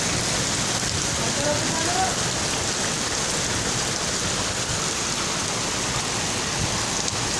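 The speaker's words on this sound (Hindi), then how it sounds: "बारिश मेरी तरफ बहुत आ रही है" Heavy rain pouring down in Lahore, a dense, steady hiss of downpour close to the microphone with no break, loud and unbroken throughout.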